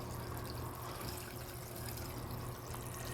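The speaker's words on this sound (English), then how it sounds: "This is water going into the system, and this is catching all of the muck." Water flows into an aquaponics system through foam filters that catch the muck. It makes a faint, steady, continuous trickling wash with no breaks, and no voices are heard.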